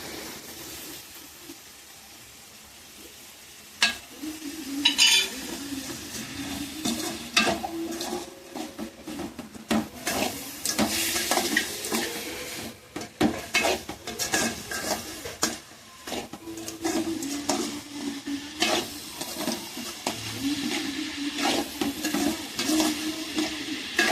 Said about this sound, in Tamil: இது பாருங்களேன், நல்லா வதக்கிட்டு இருக்கோம்